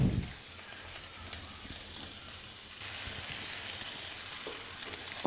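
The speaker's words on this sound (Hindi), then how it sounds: "और प्याज को अब हमें फ्राई करना है हल्का सुनहरी होने तक।" A large sliced onion sizzles steadily in about a quarter cup of oil in a pan for matar pulao, a continuous close frying hiss that grows a little louder partway through, with no talking.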